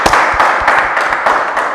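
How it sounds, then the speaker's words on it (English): Loud, dense audience applause at a business masterclass, a steady close wash of many hands clapping with no voices over it. "Let's give them a big round of applause"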